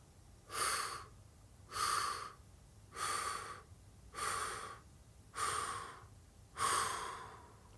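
Six slow, even breaths out during a calming breathing exercise, each a soft airy whoosh of about a second, spaced with quiet pauses between them, close and fairly faint.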